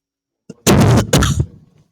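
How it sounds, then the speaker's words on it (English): A couple of harsh, close coughs in quick succession, loud and abrupt, followed by a short fading breath. "I have a little bit of a cough."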